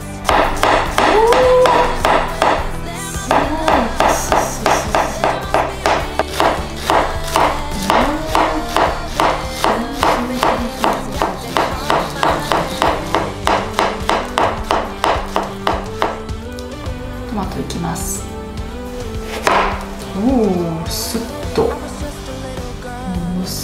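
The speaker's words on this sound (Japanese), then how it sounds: "まずネギからではネギ切っていきたいと思います" A new Glestain 819TMM gyuto kitchen knife chops green onions rhythmically on a cutting board, a long run of quick, evenly spaced taps, with a few voices and scattered sounds toward the end.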